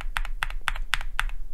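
Stock Logitech G Pro 2.0 keyboard switches are typed on, five crisp, evenly spaced keystrokes close up, each a sharp clack followed by a quicker softer return, over a low steady hum and no voice.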